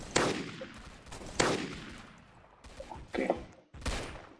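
Pistol gunfire in the Roblox game Zombie Attack: several separate sharp shots at irregular intervals, each with a short decaying tail, fairly loud and close, with no talk over them.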